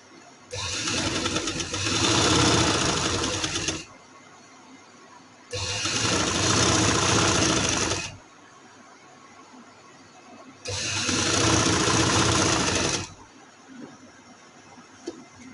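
Sewing machine stitching ladies' trousers near elastic, running in three loud sustained bursts of a few seconds each, separated by short quiet pauses.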